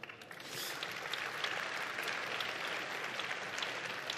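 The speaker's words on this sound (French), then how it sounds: "les applaudissements, on vous l'a dit au début, mais on va le redire, si on peut s'abstenir" Audience applause during a televised European election debate, dense and continuous clapping from a large crowd, loud and sustained throughout with no voices on top.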